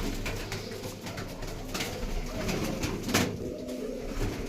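A female flying pigeon coos after landing from its first-day flight, the calls low and muffled under constant outdoor noise and wind.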